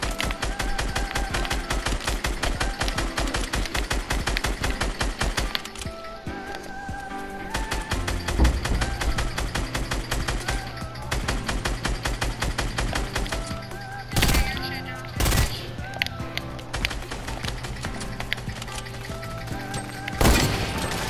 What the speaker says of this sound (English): Is he really shooting grenades at me?